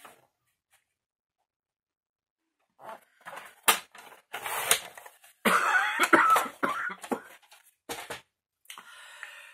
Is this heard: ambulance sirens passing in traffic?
no